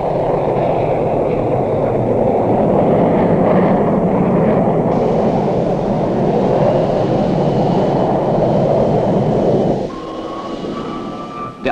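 Four F-4 Phantom jets taking off, a loud sustained roar of jet engines that holds steady and then fades slightly near the end, heard alone without talk.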